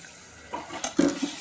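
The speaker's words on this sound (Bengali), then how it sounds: "মশলা ধোয়া জলটা একটু দিয়ে দিচ্ছি" Water poured into a pan of spiced masala with chilli, coriander and cumin powders, a brief splash and hiss in a few quick bursts, close by.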